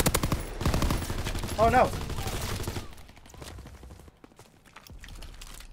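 Video game gunfire rattles in dense bursts over the first three seconds, loud and continuous, then thins to scattered shots; a player briefly exclaims partway through.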